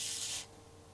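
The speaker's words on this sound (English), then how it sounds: "I use this silicone spray from Biltema. Just apply a little bit onto a cotton swab," A short, soft hiss of Biltema silicone spray onto a cotton swab lasts under half a second, then fades into quiet room tone.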